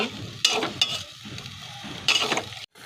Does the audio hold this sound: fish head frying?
yes